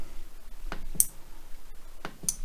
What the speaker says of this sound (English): we have a nice clicky sound from the relay